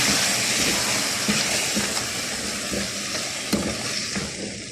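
Onion and lamb frying in a pan as tomato juice goes in, giving a steady, close, broadband sizzle with faint stirring scrapes throughout and no talking.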